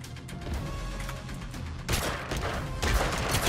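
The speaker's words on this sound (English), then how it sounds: "I threw dynamite." Dynamite goes off in Totally Accurate Battlegrounds, a sudden crackling blast that breaks in mid-moment, followed by a second burst of harsh noise over a busy gunfire background.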